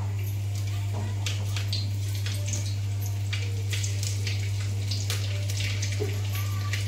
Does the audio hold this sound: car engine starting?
no